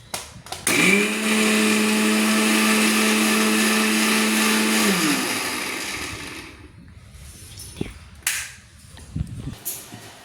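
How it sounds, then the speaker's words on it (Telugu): A mixer grinder blending soaked cashews into paste whirs loudly and steadily for about four seconds, then winds down, followed by a few clinks and handling noises. "ఈ నానిని ఇప్పుడు మనం మిక్సీ పట్టుకుందాం"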